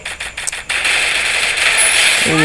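In a battle royale video game, a rapid burst of automatic gunfire rattles out loud and close, then gives way to a sustained noisy roar.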